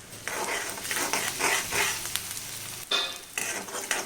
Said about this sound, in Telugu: ఉల్లిపాయలు కొంచెం వేగిన తర్వాత అల్లం వెల్లుల్లి పేస్ట్ వేసుకోవాలి.